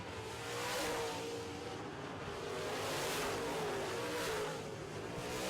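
Late model race cars circle a track, heard faintly and far off as a broad roar that swells and fades as the pack passes.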